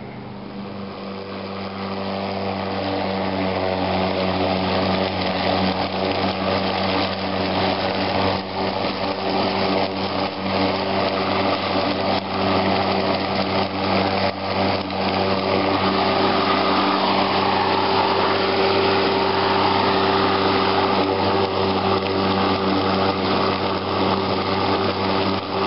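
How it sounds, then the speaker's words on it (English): A Black & Decker 60V lithium battery-powered cordless lawn mower runs steadily outdoors, a constant close electric whine and motor hum that holds at an even level throughout, with no talking. "I did tape a short clip of me actually using the mowers to get a sense of how easy it is to push, and more to the point how much noise there is on it"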